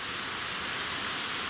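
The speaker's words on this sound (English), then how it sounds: "Well, the wind is still howling." Wind blows outside a tent at a lake campsite in Algonquin Park, a steady, loud broadband rush with no gaps or clear gusts over a short stretch.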